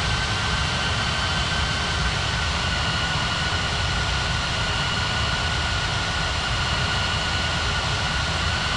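A jet airliner takes off from runway 09 at Ngurah Rai airport, Bali, in an air traffic control game, producing a steady, loud, broadband engine roar that holds evenly with no break.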